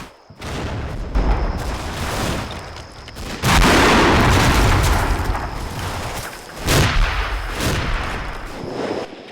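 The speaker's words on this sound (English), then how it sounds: "My mortars are adjusted to hit both positions." A mortar barrage in the war game Combat Mission: Fortress Italy pounds Italian infantry positions, with heavy booms and crackling blasts rolling one after another, loud and dense, several strong impacts standing out above the continuous rumble.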